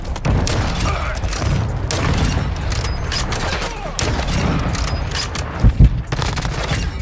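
Rapid bursts of video game gunfire from a weak pistol in a competitive shooter match, loud and close, over dense background action and several thumps near the end.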